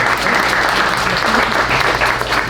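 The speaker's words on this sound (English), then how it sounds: "Clap for that." A crowd at a live talk event claps steadily, a thick continuous patter of many hands at even loudness with faint voices underneath.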